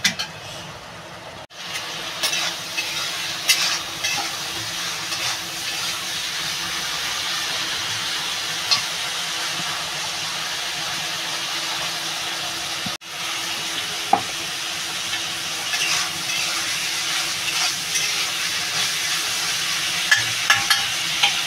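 Prawns frying in a pan: a loud, continuous sizzle throughout, broken by a few brief clatters and stirring knocks, with one sharp break in the sound near the start and another midway.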